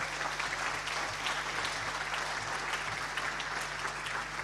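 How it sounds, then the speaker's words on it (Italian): Sustained audience applause at a Paralympic sports gala in Veneto, a dense steady clapping from a crowd with no voices over it. "congediamoli con un grande applauso"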